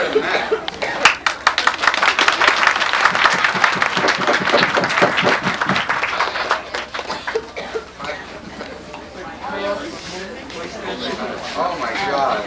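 A hall audience at a medieval-style investiture court claps vigorously in a dense burst, mixed with laughter and chatter, tapering into lighter scattered claps and voices toward the end.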